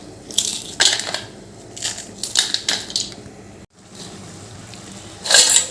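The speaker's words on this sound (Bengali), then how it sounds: "বড়িগুলো একটু হাতে করে ভেঙে নিচ্ছি ওইগুলো তো ভাজাই আছে তবু একটু ভেঙে নিলাম" Fried lentil dumplings (bori) broken apart by hand in a home kitchen, giving several short, close dry crunching bursts with pauses between them and one final burst near the end.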